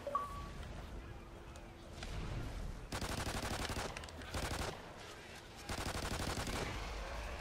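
Gunfire in the video game Call of Duty Ghosts: Extinction, with bursts of rapid automatic fire in several loud clusters and a player talking over parts of the action.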